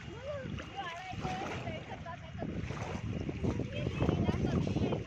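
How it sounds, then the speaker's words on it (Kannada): Waves slap and splash against a launch boat on the Sharavathi backwaters amid wind rumble, faint and choppy, with people talking over the water noise. "ಅಲೆಗಳೆಲ್ಲ ಹೊಡೆಯೋಕೆ ಶುರು ಆಯ್ತು ನೋಡಿ."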